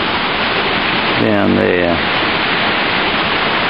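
Constant broadband rushing of a flowing creek, loud and steady, with a brief spoken phrase in the middle, on the Amphitheatre walk at Leura in the Blue Mountains.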